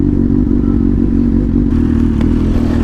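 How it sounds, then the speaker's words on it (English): Suzuki GSX-S 750 motorcycle running loud and close, a deep throbbing engine drone while riding with a faint brief rise near the end like a throttle blip on a downshift. "when you downshift, you gotta give it a little blip yourself"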